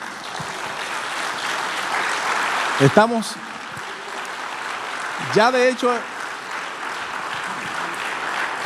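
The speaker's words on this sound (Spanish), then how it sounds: "¿Qué crees si le das un aplauso al Señor?" A church congregation claps during a sermon, a steady wash of applause from a crowded room, while someone speaks over it twice in short bursts.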